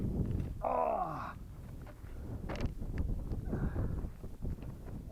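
Gusty outdoor wind buffets steadily throughout as a constant low rumble, with a short whistling tone early on.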